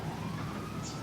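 A police car siren wails in the GTA V LSPDFR game on a rainy day, a continuous rising tone over a dense rumbling game soundscape, briefly heard at steady volume.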